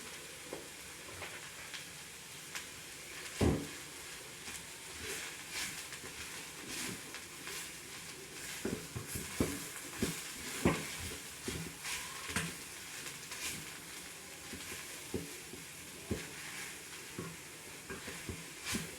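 Momo filling cooking in a pan gives a constant sizzling hiss, broken by frequent sharp clacks of a spoon stirring against the pan, up close and without talk.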